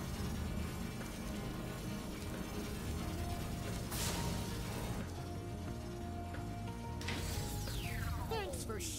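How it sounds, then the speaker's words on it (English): Gear-grinder factory machinery in Spyro Reignited Trilogy clanks and whirs in a continuous mechanical din, with ratcheting and grinding textures and occasional hissing sweeps, as characters speak over it. "This switch to turn off the gear grinder factory is in that room, but, it's awfully noisy in there."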